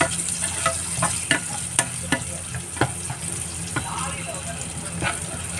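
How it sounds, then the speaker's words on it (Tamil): Green chilies sizzle and fry in hot oil for a fish pickle, with a steady frying hiss broken by repeated stirring scrapes and clacks of a spoon in the pan, and a voice talks over it. "நல்லா கொஞ்சம் வதங்கட்டு போட்டு அதோடய வந்து பச்சை மிளகாயும் போட்டுவோம்"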